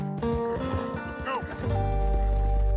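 A horse in Red Dead Redemption 2 runs with rapid clip-clop hoofbeats under game music and ambient sound, ending in a low rumbling swell.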